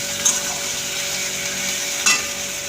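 Ginger-garlic paste sautés with fried bitter gourd (kakrol) in a pan, a steady sizzling hiss throughout, marked by two brief utensil scrapes near the start and two seconds in.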